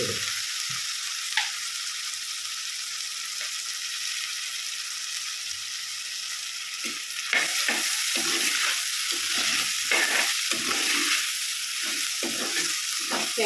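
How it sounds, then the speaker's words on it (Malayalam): Onion, green chilli, curry leaves and tomato sizzle steadily in a pan for an onion curry, with a soft continuous hiss and, later, bursts of scraping from stirring, close and moderately quiet. "കുറച്ച് കറിവേപ്പില ഒരു തക്കാളി ഇത് നല്ലപോലെ ഒന്ന് കുറച്ച് ഉപ്പൊടി"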